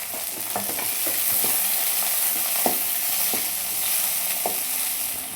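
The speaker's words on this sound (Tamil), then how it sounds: "அது கூடயே நம்ம பூண்டையும் போட்டுடணும் பூண்டு வதங்கணும்" Garlic sautéing in a pan for a medicinal Tamil kuzhambu, a steady close sizzle of frying with repeated light scrapes and taps of a stirring spoon, no one speaking.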